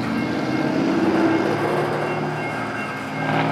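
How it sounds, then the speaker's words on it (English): Eastbound Amtrak 93 passenger train approaching, a steady loud rumble with rail noise and a faint squeal, no talk. "this is probably Amtrak 93 that's going to be coming east here"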